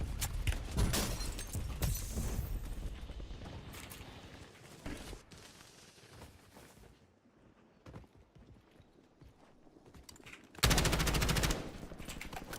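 Bursts of gunfire in the video game Call of Duty Black Ops 2, loud rattling volleys at the start and again near the end, with quieter scattered shots in between.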